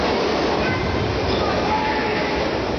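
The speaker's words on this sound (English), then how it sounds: "Just as the subway was coming into the station." A subway train rolls into a station, a loud continuous rumble and roar of wheels on rails that fills the space without pause.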